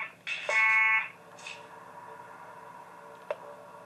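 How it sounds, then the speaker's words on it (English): A short, loud electronic alarm tone from the game Five Nights at Wario's sounds for about half a second, then falls away, leaving a quiet hum and a faint click. "I hear Waluigi, so I gotta turn on the alarm"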